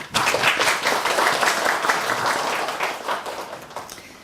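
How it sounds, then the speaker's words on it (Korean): Audience applause for youth support managers at a 2023 Gangbuk youth startup center results-sharing ceremony: dense, steady clapping from a crowd for about four seconds, gradually thinning toward the end. "청년 지원 매니저님들에게 박수 부탁드립니다"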